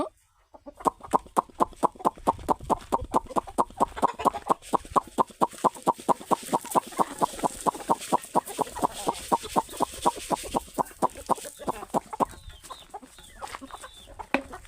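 Dense, rapid pecking and clucking from a flock of chickens and roosters eating rice scattered nearby, a fast steady patter for most of the clip before tapering off.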